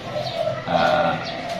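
Spotted doves (tekukur) kept by a breeder coo in a yard, a steady low murmur of overlapping calls running through the whole stretch, fairly close with no talk.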